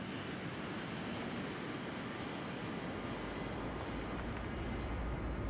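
A Rockwell X-31 jet in FSX spools up for takeoff, a dense, steady broadband jet roar with a deepening low rumble building toward the end, close and loud, no talking.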